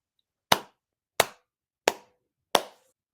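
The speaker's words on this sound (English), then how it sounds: "Slow clap for a job mediocrely done over 4 years." Four slow, deliberate hand claps ring out one by one, evenly spaced about two-thirds of a second apart, each crisp and close, with silence between and no voices.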